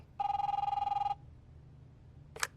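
A telephone in the game The Wolf Among Us gives a single electronic ring burst lasting about a second, followed by silence and a short sharp click, fairly quiet and alone.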